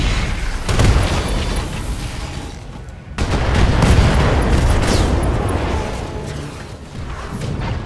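Mech weapons fire and explosions in a video game, a dense, continuous barrage of booms and blasts with a brief drop near the middle before the heavy firing resumes, loud and close.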